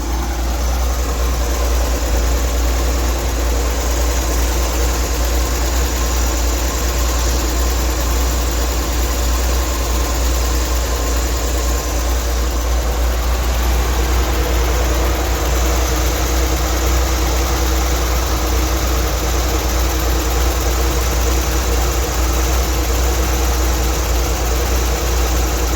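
A Chevrolet Corvair engine idles with a newly installed idler pulley, a steady loud low rumble with constant mechanical whirring that runs unchanged throughout, close and without talk.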